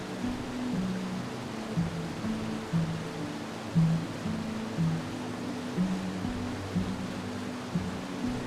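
Palouse Falls in Washington State, a waterfall heard as a steady, broad roar from some distance, with a low, uneven rumble rising and falling beneath it.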